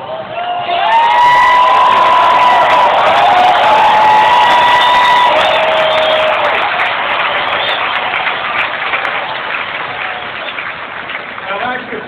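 A stadium crowd at AT&T Park in San Francisco cheers and applauds for Willie Mays at his 80th birthday celebration, a loud sustained roar with whistles and whoops that slowly fades.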